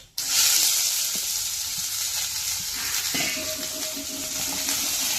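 Garlic, onion and capsicum fry in hot oil for a pasta dish, a steady, loud sizzle that starts abruptly and holds throughout, with faint scrapes of stirring partway through.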